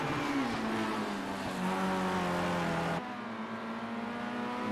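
Racing cars in a sim racing esports game, with a steady loud engine drone that holds through the clip and dips slightly in tone partway, no talk over it.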